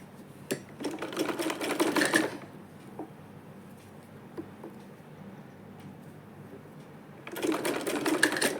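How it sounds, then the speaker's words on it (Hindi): A sewing machine stitches a round neckline on fabric in two quick rattling runs, close and clear, separated by a quiet pause with faint handling clicks. "इस पे हम इस तरीके से फैब्रिक को खींचते हुए इस तरीके से इस पे सिलाई करते जाएंगे"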